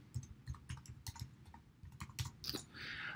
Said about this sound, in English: I'm just going to type in explanation